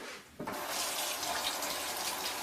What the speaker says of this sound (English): You can get this right out of the tap.